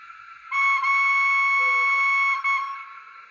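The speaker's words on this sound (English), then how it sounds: "And that is, of course, the playable whistle." A model steam train's playable whistle sounds a crisp, bright two-tone blast, held steady for about two seconds with a brief break and a short final toot, close and clear against silence.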